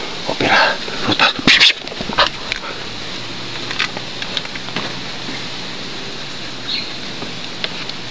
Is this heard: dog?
yes